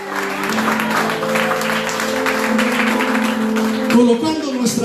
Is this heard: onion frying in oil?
no